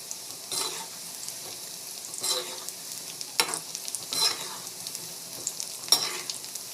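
Food frying in hot oil in a pan, a soft continuous sizzle with regular spatula scrapes and stirs every second or so, close by and without speech.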